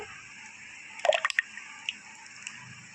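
A little water splashes into a mixer jar holding yogurt for a chilled summer sherbet: a brief cluster of soft drips and splashes, close by, then a couple of faint trailing drops.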